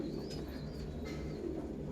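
Pigeons coo softly and steadily among birds kept for delivery, including a large female Kalanka pigeon with a leg ring, with a low continuous murmur throughout.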